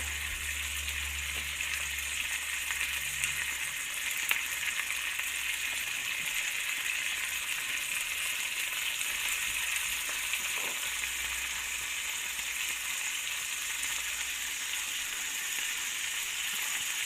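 A carp fillet seasoned with salt, pepper and lemon juice fries in a pan, a steady close hiss of sizzling oil running on without a break, with no voices.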